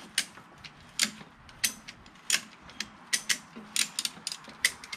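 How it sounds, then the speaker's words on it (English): A ratchet strap is cranked to push a track tensioner piston back into a mini excavator, giving sharp clicking ratchet strokes in an irregular rhythm, close and crisp against a quiet background. "I got the ratchet strap around. And then I'm just gonna push this piston in"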